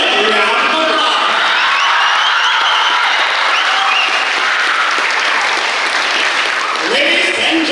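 Sustained loud applause from a graduation ceremony audience after a performance, steady clapping with some cheers and voices mixed in, rising slightly near the end.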